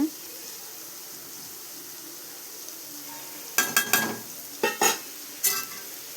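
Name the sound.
mixing chili powder into nalli kaai pickle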